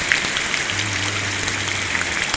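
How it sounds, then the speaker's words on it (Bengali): Heavy rain pours down steadily outdoors, a dense continuous hiss of drops on surfaces with a faint low hum beneath, no voices. "এত বৃষ্টি পড়ছে"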